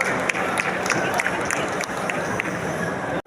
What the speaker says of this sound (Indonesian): Boleh berikan tepuk tangan yang begitu meriah Bapak Ibu.